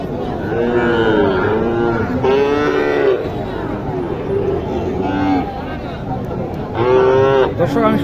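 Sahiwal cattle at a busy outdoor cattle market in Naogaon moo repeatedly, several loud, drawn-out calls rising above a steady crowd murmur and background chatter.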